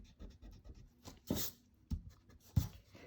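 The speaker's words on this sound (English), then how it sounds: "We can erase the center line" A pencil eraser rubbing out a center line on a drawing of Wonder Woman, quiet close scrubbing strokes in short bursts with a few faint scuffs between them.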